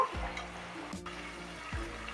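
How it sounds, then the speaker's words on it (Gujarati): Methi corn vadas fry in hot oil with a soft, steady sizzle, and a slotted spoon gently turns them with a few low scraping strokes, all fairly quiet. "વડાને ગેસની ધીમી ફ્લેમ ઉપર તળશું જેથી વડા અંદર પણ સારી રીતે તળાઈ જાય"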